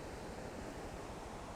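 Strong, fast water current rushing at San Roque Dam in Pangasinan, a steady dense roar filling the short stretch without pause, close and continuous with no voices.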